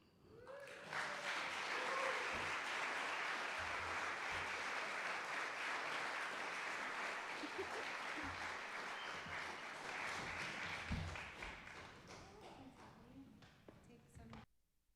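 An audience applauds loudly and steadily for about ten seconds, a dense wash of clapping that tapers off, with a few voices underneath.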